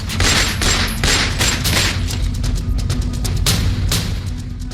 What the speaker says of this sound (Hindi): काले लिबास पहने अतीक का बेटा असद उमेश पाल पर ताबड़तोड़ फायरिंग करता हुआ दिखाई दे रहा है